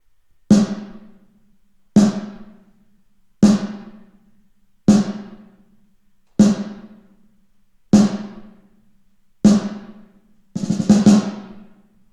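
A snare drum is struck eight times at steady intervals, each hit followed by a long, roomy echo from a 100-square-metre empty shed that decays before the next, the last hits clustered together.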